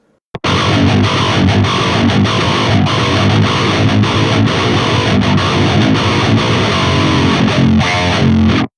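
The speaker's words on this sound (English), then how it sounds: "It's 1960B cabinet with G12-T75 speakers and sounds something like" Heavily distorted electric guitar chugs and rings through a Marshall 1960B 4x12 cabinet with G12-T75 speakers, loud and sustained from start to finish with no voices.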